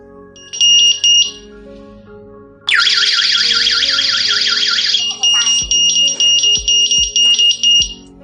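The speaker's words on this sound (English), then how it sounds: "When the alarm is triggered, it can conduct on-site alarm through sound and light" Siren of a Tuya Wi-Fi GSM 4G burglary alarm system: a short burst of beeping, then a loud sweeping electronic wail, then a run of rapid pulsed beeps, close and sounding alone.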